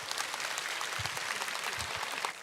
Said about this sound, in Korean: 목사님 나오실 때 우리가 감사와 또 축복의 마음으로 박수로 맞이하도록 하겠습니다